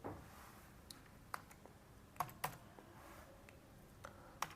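Computer keyboard typing while CSS is being written for a web app, sparse irregular keystrokes with a few sharper clacks, close and fairly quiet, no talking.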